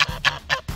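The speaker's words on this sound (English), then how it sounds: "A queen goose. In a neck brace." A baby goose honks repeatedly in a quick series of four nasal calls, close and clear with nothing else behind them.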